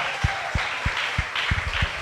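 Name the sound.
church congregation applause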